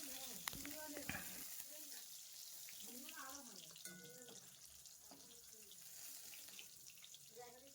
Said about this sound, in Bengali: আর এবার পটলটা ভাজবো